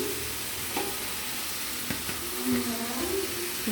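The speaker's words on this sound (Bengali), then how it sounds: "কাঁচা লঙ্কা দিয়ে এটাকে ভালো মতো করে নাড়াচাড়া করব" Mixed vegetables with green chili stirred in a frying pan for a homestyle masala sabji, a steady close sizzle with spatula scrapes and a few clinks throughout.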